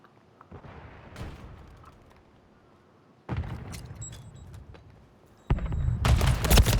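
Gunfire in the Call of Duty 3 video game: bursts of shots and impacts arrive in clusters, with a loud, dense volley near the end.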